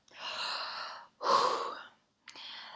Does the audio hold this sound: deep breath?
yes